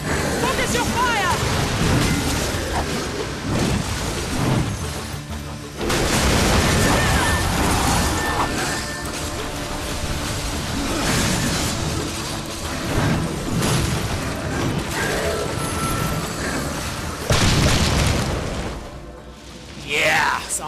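A zombie blows apart in Darksiders 2, booming bursts breaking through dense, noisy game sound with music and effects layered over it and voice dialogue running throughout.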